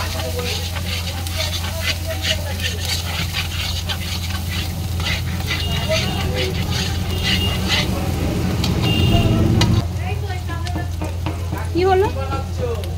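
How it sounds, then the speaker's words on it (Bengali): Spices frying in hot oil in a pan, a continuous loud sizzle with scraping stirring strokes throughout, a low steady hum beneath, and brief voices late in the clip. "এবার একটু তেলে কষিয়ে নিচ্ছি।"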